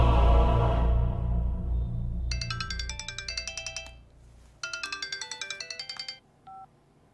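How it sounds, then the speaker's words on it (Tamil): A mobile phone ringtone plays over speakerphone during a call in a Tamil action film: two bursts of bright, rapidly repeating electronic tones after a low rumble, then a short closing beep. "அவனுக்கு போன போடு போடு. ஸ்பீக்கர்ல போடு."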